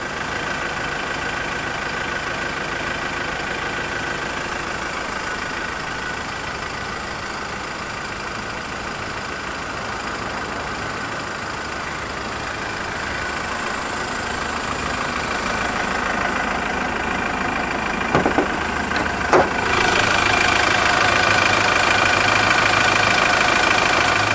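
A 2014 Mazda BT-50 4x4 double cab, a Ford-derived 2.2-litre turbo diesel inline four with common rail injection, idles with a steady low drone, close and alone, turning slightly louder toward the end.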